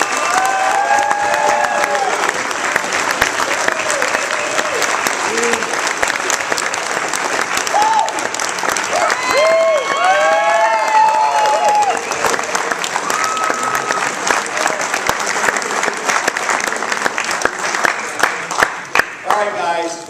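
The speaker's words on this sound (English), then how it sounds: "I think we ought to give a big round of applause" Loud, sustained audience applause at a Gano Excel business meeting, dense clapping mixed with cheers and whistles that carries on without a break for the whole stretch, with a few voices calling out through it.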